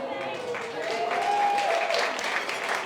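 Wedding guests break into applause during a reception, a steady, moderately loud spread of clapping with voices mixed in, lasting the full few seconds.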